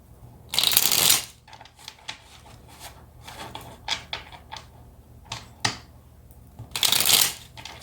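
Tarot cards being shuffled by hand, two long riffling bursts bracketing a run of softer crisp card taps and flicks, close and clear with no talking.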